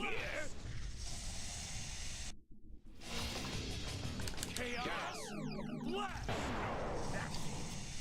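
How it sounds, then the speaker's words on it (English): A boss fight in the video game Shadow the Hedgehog sets off a double explosion: heavy booms and blasts amid busy game effects, with a brief dropout and sweeping whooshes. "Oh, that's nice. Double explosion."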